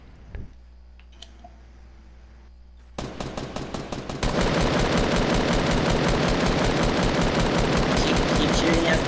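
Fortnite gunfire: quiet game ambience gives way to rapid bursts of shots that swell into loud, continuous automatic fire with clicking, filling the rest of the clip.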